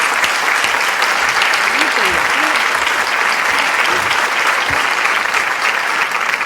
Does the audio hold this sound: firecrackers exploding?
no